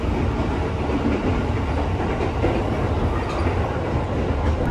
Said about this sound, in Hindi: ये आ गई है अपनी ट्रेन, ये आई है मांगराई की ट्रेन